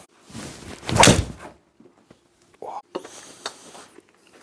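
A golf club fitted with a Fujikura Ventus Blue shaft strikes a ball at a practice session, one loud sharp whoosh and impact followed by quieter clatter and shuffling.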